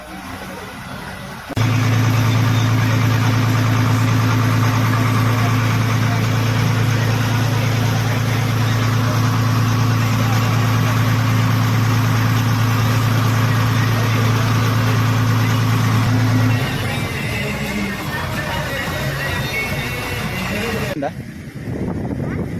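A boat engine runs at a Mangalore beach, a loud steady low drone for about fifteen seconds before easing off, with voices faintly in the background.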